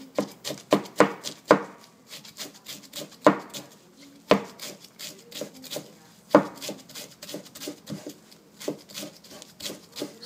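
Shiso (ooba) leaves finely minced with a kitchen knife on a cutting board, a brisk series of sharp close taps in uneven rhythm with a few harder chops, no talking.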